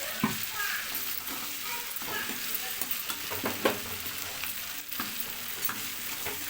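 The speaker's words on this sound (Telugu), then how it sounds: "ముందుగా కట్ చేసుకున్న బెండకాయ ముక్కలు అయితే వేసుకోవాలి వేసుకొని ఒకసారి అయితే కలుపుకోవాలి" Cut okra pieces fry in a pan while being stirred, a steady sizzle broken by repeated scraping and clacking strokes of the spoon, close and clear with no talk.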